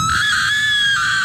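A group of people in a Filipino radio drama break into loud, sustained screaming that swells together and holds for about a second.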